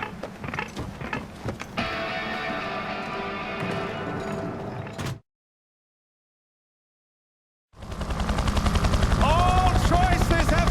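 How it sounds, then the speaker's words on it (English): Rapid automatic gunfire in Far Cry 4 rattles loud and dense for several seconds, breaks into full silence, then resumes even louder with a helicopter-like drone. "Maybe now we can finally shoot some goddamn guns."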